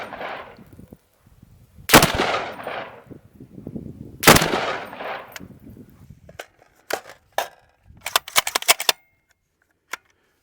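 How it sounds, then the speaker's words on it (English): A SCAR H rifle fires five rounds at a downrange target during zeroing: sharp, loud individual shots spaced a couple of seconds apart, with ringing echoes and quieter handling clicks between them. "we'll fire 5 rounds and see where we are"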